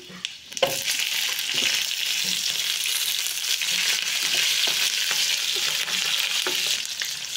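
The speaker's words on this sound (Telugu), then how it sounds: "పచ్చిమిర్చి బాగా వేగింది కదండి" Green chillies, garlic cloves and cumin seeds fry in hot oil with a dense, continuous sizzle and occasional stirring scrapes, close up and steady throughout.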